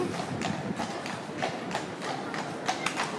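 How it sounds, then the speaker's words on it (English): Frisian horses trotting in to greet other horses, a steady run of hoof clip-clops at moderate distance over outdoor background noise. "White horses are excited. Here they come."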